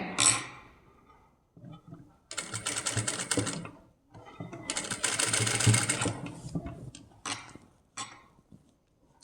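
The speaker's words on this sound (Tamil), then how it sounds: "இப்போ நான் லேஸ் வச்சு தைக்கிறேன்" Lace is stitched onto a kids' crop top with a sewing machine in several close bursts of rapid clattering, separated by short pauses and handling noises.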